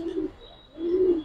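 Giribaz pigeons give two soft, low coos close by, a short pause separating the calls, with faint background hiss.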